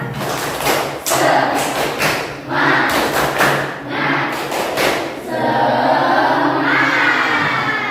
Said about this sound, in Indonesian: silakan kita bertepuk semangat dulu